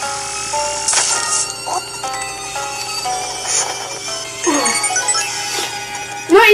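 Video game phone ringing in Luigi's Mansion 2, a repeating electronic ring with bright chiming tones, fairly clear over quiet game music.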